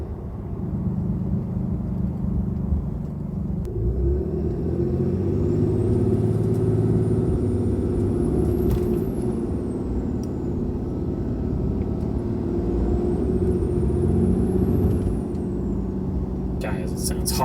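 A 2022 Ram 2500 pickup with a 6.7 Cummins diesel and an S&B cold air intake runs with a steady deep rumble and rising whooshing turbo whistle, loud and close, with a faint voice in the background.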